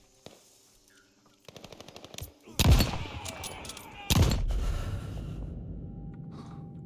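Gunfire in Call of Duty Vanguard: a rapid run of light shots, then two heavy loud blasts followed by a lingering rumbling tail.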